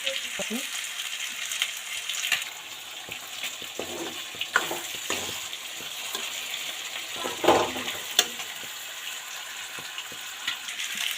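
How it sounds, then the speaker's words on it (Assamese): Duck meat cooking and fish frying in a pan, a continuous close sizzle and hiss broken by scattered clatters and stirring knocks. "মাছ ফ্ৰাই কৰিছোঁ আৰু ইয়াত হাঁহৰ মাংস বনাই আছোঁ এতিয়া"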